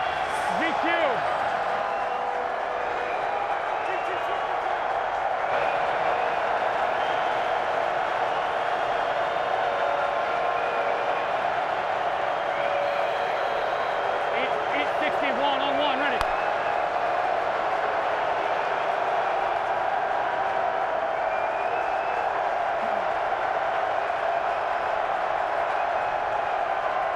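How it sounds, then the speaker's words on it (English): Steady, dense roar of a stadium crowd at an XFL football game between the Seattle Sea Dragons and St. Louis Battlehawks, a loud, continuous wash of voices with a few brief spikes and no letup. "as you can hear, this crowd is rocking already"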